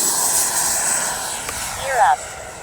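Freewing 80mm Avanti S V2 RC jet whooshes with a steady electric ducted-fan whine, rising briefly near the end, while a voice talks over it in wind.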